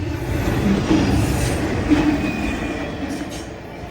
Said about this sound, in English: Train pass and traffic moving